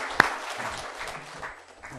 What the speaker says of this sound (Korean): 우리 이윤주 집사님 잘하시라고 우리 박수 한번 쳐드리죠